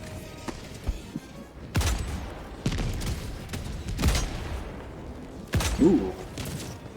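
Sentry turrets firing in the video game Helldivers 2, a series of heavy booming shots spaced a second or so apart, punchy and fairly close against battle noise.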